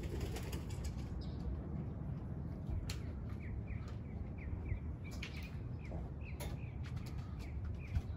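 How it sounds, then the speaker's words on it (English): Racing pigeons flapping their wings outdoors as they return from an 80-mile training toss, with a few faint chirps over a steady low background rumble. "Oh, I see one more bird right there. Oh, these two birds are back."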